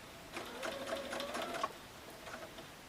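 A sewing machine stitches down a quilt-as-you-go Christmas stocking in a quiet room, giving a brief, faint run of rapid mechanical whirring and needle ticks that stops and briefly starts again.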